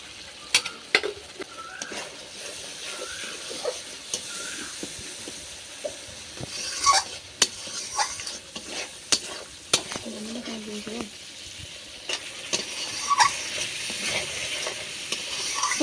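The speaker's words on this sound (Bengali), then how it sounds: "মশলার সাথে চিংড়ি মাছগুলো আমার খুব ভালোভাবে কষানো হয়ে গেছে" Shrimp sauté with spice masala in a pan, giving a quiet, ongoing sizzle punctuated by frequent sharp clicks and scrapes of stirring, with faint tonal sounds now and then.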